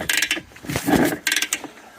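Worn main bearings turn over in a 1970 Montesa Cota 247 two-stroke trials engine that sat abandoned for over 20 years, giving a close, rough grinding and clicking in short uneven bursts over about two seconds.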